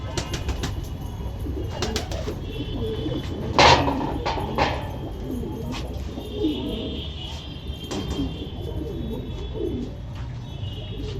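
A female pigeon coos on a rooftop in soft, repeated low calls. Scattered wing flutters and other birds sound nearby, and voices murmur faintly in the background.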